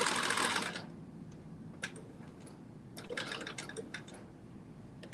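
A sewing machine understitching a bodice piece for a dress pattern, a steady close whir with scattered ticks and clicks from the mechanism.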